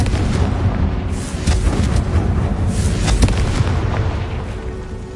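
Confringo fire spell blasts in the Hogwarts Legacy video game, a dense, loud roar of explosive booms and crackling bursts that stays sustained across the whole stretch.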